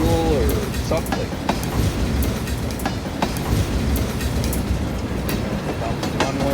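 A freight train of tanker cars rolls past on Vancouver Island, close and steady, with a continuous rumble and rhythmic clicking of wheels over rail joints.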